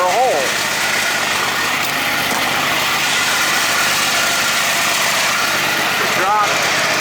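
A Poulan Pro riding lawn mower engine runs loud and close, holding a steady droning idle throughout.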